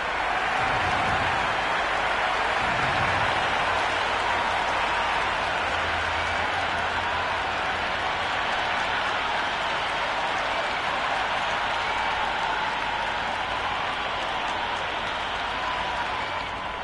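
Crowd noise fills a cricket stadium in the video game Cricket 26, a dense, steady wash of cheering and applause that holds at an even level throughout, with a commentator's voice faintly over it early on.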